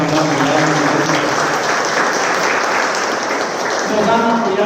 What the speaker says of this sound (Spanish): Un aplauso para él porque también nos han apoyado.